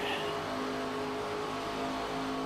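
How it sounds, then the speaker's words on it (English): Loud engines roar and rev steadily as race cars climb through the gears at Talladega in iRacing, a dense continuous drone with no voices. "Still listening to these cars get up through the gear."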